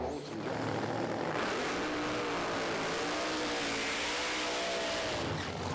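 Pro Stock drag racing car launching at Santa Pod during an FIA FIM drag racing event, a loud, continuous engine roar that rises in pitch as it accelerates away.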